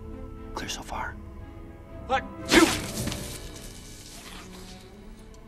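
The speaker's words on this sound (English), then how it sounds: "You just sneezed away the plan." A single sharp, explosive sneeze bursts out partway through, loud and close, between quieter spoken lines in an indoor film scene.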